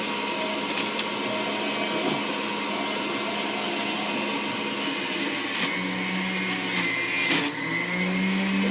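A juicer steadily grinds Gala apples, a continuous dense motor whine and pulp rush with occasional louder crunches as fruit is fed in a few at a time, close and loud with no talking.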